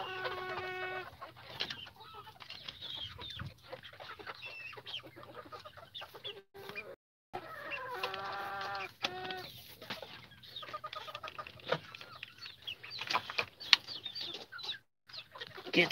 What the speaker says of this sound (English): They usually will take laying hens a few days to get confident enough to start laying